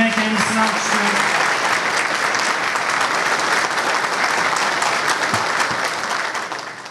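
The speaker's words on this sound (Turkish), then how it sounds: "Yine kendisini alkışlıyorum." Dense crowd applause for an MHP (Nationalist Movement Party) parliamentary candidate at a gathering, steady and loud throughout with a few faint voices mixed in.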